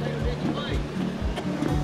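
Water splashing from a decorative fountain in an outdoor seating area atop a mountain skybridge attraction, a steady rushing wash with faint voices nearby.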